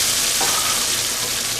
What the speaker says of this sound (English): now we're just going to pretty much dump all these beans in. We're going to get some splattering.